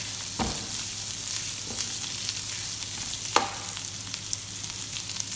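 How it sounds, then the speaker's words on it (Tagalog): Bihun rice noodles pan frying in a pan, a steady dense sizzle with a few brief stirring scrapes and clatters, close and continuous throughout with no talk. "Pan fry ulit for about 2 minutes."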